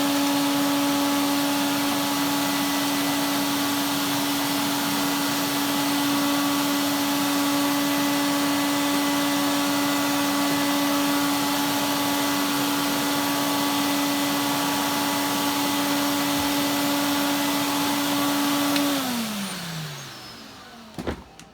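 Vacuum suction from a Hoover 119 or Electrolux 347 Hoovermaster drives a turbo brush through a pneumatic hose, a loud steady whine and rush that holds for a long stretch before the motor winds down and fades.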